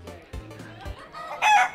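On a Malaysian comedy show, a man imitates a rooster crowing with his voice, giving a short, loud cock-a-doodle cry at the end. A couple of soft thumps come before it.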